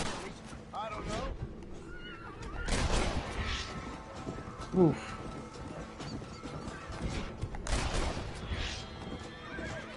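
A horse whinnies in Red Dead Redemption amid gunfire and hoofbeats, a brief sharp neigh mid-clip, with a person talking over the game sounds.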